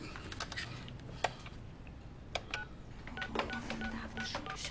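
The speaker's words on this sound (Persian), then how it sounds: "اجازه بفرمایید من تلفن بکنم." Telephone keypad tones and clicks as a number is dialed indoors, a series of short, moderately quiet presses in an uneven rhythm over low room noise.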